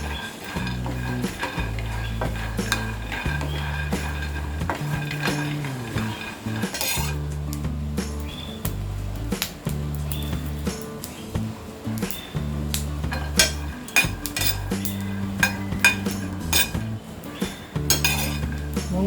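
Half a cup of peanuts is dry roasted in an empty pan and stirred with a utensil, giving repeated rattling, scraping clinks of metal on metal, steady and close, over a soft low background tone.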